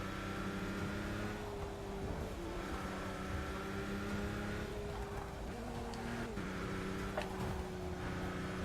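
Race car engines in the Forza 6 video game at the 2 Hours of Le Mans, several engine tones droning and shifting pitch through a chicane near the pit lane exit, with steady revving and no speech.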